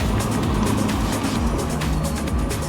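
A car passes close by near a waterfall, a loud continuous roar of engine and tyres that stays dense and even throughout, with no voices heard.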